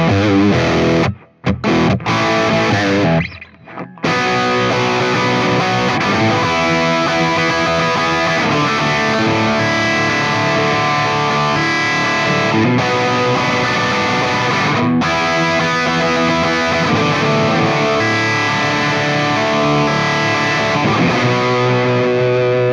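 Electric guitar played through a Fractal Audio Axe-FX II on an Ecstasy Red amp model, thick distorted chords ringing loud and continuous after a few brief stops near the start.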